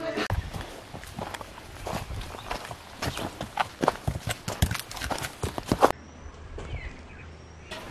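Horses tied with ropes around their necks stand and shift their hooves on the ground in a Mexican village in Yelapa, Jalisco, with scattered clopping steps mixed with people talking and background outdoor noise.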